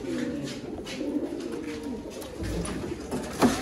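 Pigeons coo softly in a loft, their low murmuring calls repeating under a steady background of birds, close and continuous with no talk.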